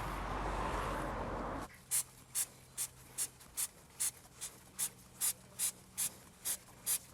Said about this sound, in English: I've just sprayed the chain with some lube